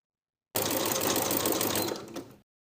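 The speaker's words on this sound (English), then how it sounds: "Overlap the 2 short edges of the elastic by a 1/2 inch and zigzag in place to secure." A sewing machine zigzag stitches over the overlapped short ends of elastic for a pintuck poet blouse: one close, steady whirring run of about two seconds that slows briefly at the end, heard alone.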